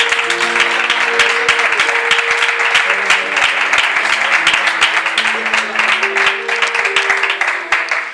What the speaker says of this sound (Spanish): dar un fuerte aplauso al Señor